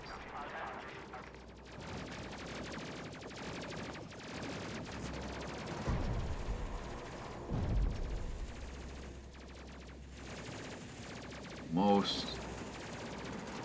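A ship's side weapons firing in a video game, dense rapid bursts of gunfire rattling under game noise, with a louder blast near the end and a voice speaking briefly.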